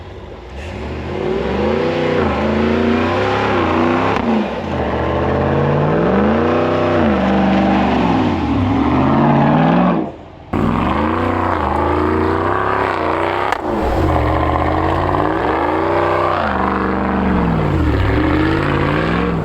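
A Land Rover LR4 HD engine revs hard while driving in snow, a loud continuous drone that climbs and falls in repeated rising and sinking sweeps, close up with no talk.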